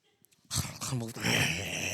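A voices a short, rough growling snarl imitating a lion growling while it eats to guard its kill, loud and close after a brief quiet moment.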